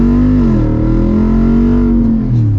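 Engine of a Jeep Wrangler fitted with an AEV kit, revving in a loud, close, throaty tone that rises and dips briefly over a few seconds, with no talking.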